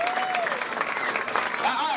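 Audience applause at a magic show, a dense, fairly loud burst of clapping from the crowd with a voice speaking over it.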